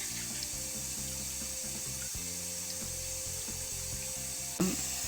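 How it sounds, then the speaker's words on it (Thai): Tap water running through a hose into a small Imarflex washing machine, a steady low gushing fill with faint clinks and a brief knock near the end, heard alone and fairly quiet. "เอาสายยางต่อจากก๊อกแล้วก็ ใส่ทางนี้ก็ได้น้ำ"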